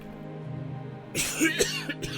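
After a quiet hum, a few short, rough coughs break out close by, overlapping in quick succession.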